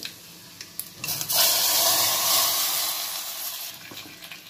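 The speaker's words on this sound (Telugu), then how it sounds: "ఇప్పుడు పప్పుచారులు వేసేసుకున్నాము." Watery dal rasam is poured into a hot pan of tempered spices, rising into a loud, rushing hiss and gurgle that swells after a few small clinks, then slowly settles and fades.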